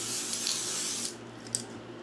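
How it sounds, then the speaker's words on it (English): A cosmetic finishing spray hisses in one steady, close burst lasting about a second, then stops, leaving a quiet room with a faint low hum and a small tap. "I top it off again with the finishing spray."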